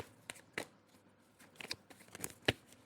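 Tarot cards shuffle and slide out one at a time in a quiet room, a few sharp papery riffles and flicks spaced irregularly, close and fairly soft.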